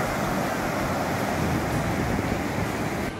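Sea waves wash onto the beach at Cerro Azul, Peru, a steady broadband roar of surf mixed with wind noise, continuous and fairly loud throughout with no voices.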